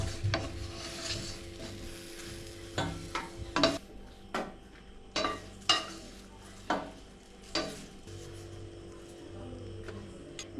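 Fried okra being moved from a frying pan to a plate, with a series of sharp spatula scrapes and clinks against the pan over a soft continuous oil sizzle and no talking.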